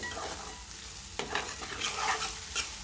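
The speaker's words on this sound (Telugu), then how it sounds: "రెండు నిమిషాల పాటు వేగనివ్వాలండి అల్లం వెల్లుల్లి పేస్ట్ని" Ginger garlic paste frying in a pan, a steady sizzle with a few scrapes of stirring cutting through, close and moderately loud with no voices.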